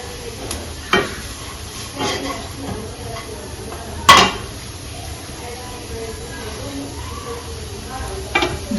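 Babbarla fry being mixed with salt and chilli powder makes soft, sporadic stirring and scraping sounds, with a few sharp clinks of utensil on dish, under intermittent talk.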